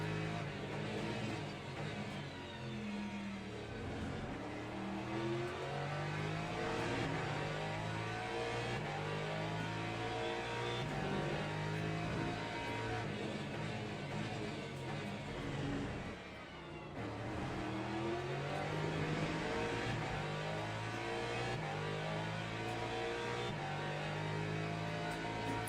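Porsche GT3 race car engine in Le Mans Ultimate, running continuously and loud with repeated rising and falling revs through gear changes and a brief dip around mid-way, no talk over it.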